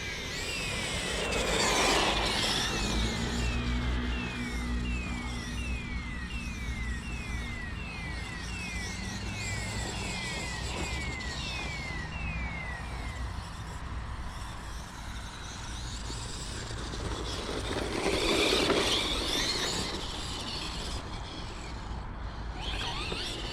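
A Traxxas Revo 4S RC car with a 1900kv motor whines along as it drives and slides, a steady buzzing electric drone with rising and falling pitch and rough gravelly texture throughout.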